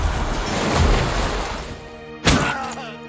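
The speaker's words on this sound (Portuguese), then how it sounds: "Onda perfurante vai jogar água nos dois aqui." A piercing wave water spell cast in the tactical RPG Lost Eidolons, a loud surging splash of rushing water with a sharp crash hitting partway through, no talking.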